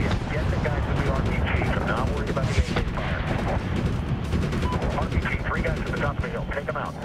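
AK rifle fire and RPG blasts rage through a battle in the video game Medal of Honor (2010), dense overlapping gunshots and booms sustained without pause, loud and close.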